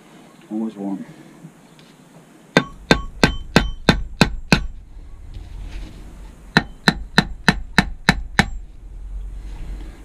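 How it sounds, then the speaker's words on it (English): Two rapid bursts of sharp hammer strikes on a metal motorcycle silencer, about seven blows each in quick even rhythm, ringing close by, with a brief voice just before. "If in doubt, hit it with a hammer."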